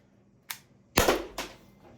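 Umarex HDP50 pistol firing: a sharp crack lands near the middle, with a fainter click before it and a softer pop after, all close and quick, with no talking.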